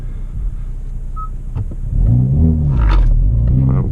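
A Hyundai Veloster N launches with launch control, its engine note climbing loud and close in a rising rev after a short idle, with a brief rasp at the peak.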